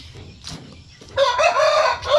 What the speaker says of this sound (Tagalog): Dito sa likod yung ating isang shamu asil ko na manok.